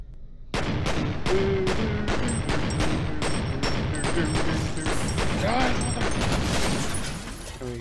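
Pistol gunfire in the first-person shooter F.E.A.R., a steady run of loud, sharp shots at an even rhythm for several seconds, with faint game effects underneath.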